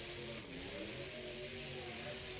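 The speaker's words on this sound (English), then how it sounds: "Turning the truck around." A monster truck engine revs as the truck turns around in a BeamNG.Drive Monster Jam freestyle run, a loud, steady, mid-pitched roar with shifting tones and no talking.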